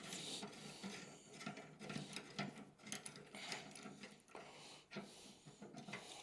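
A socket wrench ratchets on a 1925 BSA motorcycle while a rear stand and footrests are fitted, producing repeated close clicking bursts in an uneven rhythm, with no talk.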